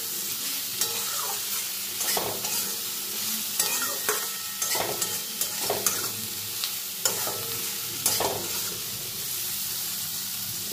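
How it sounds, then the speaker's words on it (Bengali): Potatoes and onions with salt and turmeric frying in a pan, steady oily sizzle broken by repeated scraping stirs every second or so, close and clear with no talking. "নুন আর হলুদটা দিয়েও আলু আর পেঁয়াজের সঙ্গে আমি নাড়াচাড়া করে কিছুক্ষণ ভাজা ভাজা করে নেব"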